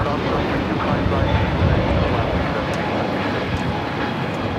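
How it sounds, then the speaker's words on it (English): A Frontier A321neo in Stellar's Eider livery taking off from LAX toward Houston: a steady, broad jet engine roar filling the whole stretch, with no break or build. "This is Wilhelm the Stellar's Eider livery taking off to Houston Intercontinental on the A321neo Frontier 1756."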